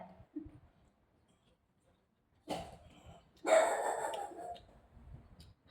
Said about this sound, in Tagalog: Aso ko, ingay nila.